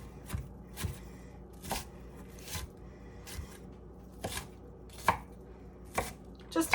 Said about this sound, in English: There, and then I'll chop this a little bit more too.